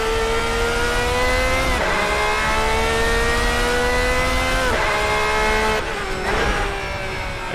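A Ferrari 333 SP's 4-liter V12 screams at high revs in Assetto Corsa, rising in pitch through several long pulls with brief dips at each gear change, loud and close, ending with a lift-off and settling.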